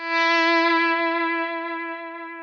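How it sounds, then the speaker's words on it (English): A single electric guitar note through a Blackstar Amped 2 delay with an octave-up pitch effect, sustaining clear and bright while slowly fading, with no voices. "I think there's some kind of pitch going on with that delay."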